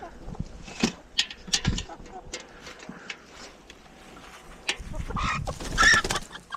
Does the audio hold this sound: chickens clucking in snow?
yes